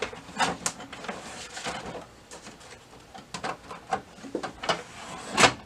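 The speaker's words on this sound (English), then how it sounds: "Put the tray back in." The paper tray of an Okidata ES7412 printer is pushed back into place, giving a string of sliding scrapes and plastic clunks, close and fairly quiet, ending in a firmer knock.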